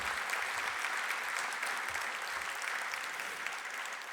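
Steady, dense applause from an audience at a fire academy graduation ceremony, continuous clapping at an even level from start to finish.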